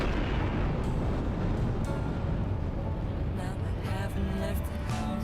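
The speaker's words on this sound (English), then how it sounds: "I think the explosion catches him anyways." An explosion in the platformer video game The End Is Nigh produces a continuous, dense roaring rumble that stays loud and heavy throughout, with faint crackling bursts toward the end.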